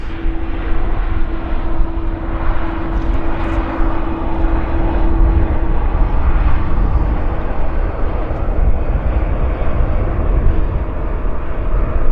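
A fixed-wing airliner arriving at Vancouver Airport, heard as a loud, steady low engine roar with broadband rumble and a faint tonal whine early on, continuous and close.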